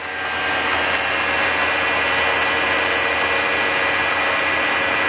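A Mori Seiki lathe, 17.5 by 33 inches, runs its spindle at 112 RPM, giving a loud, continuous machine hiss and whir that swells in over the first half second and then holds steady, with no talking.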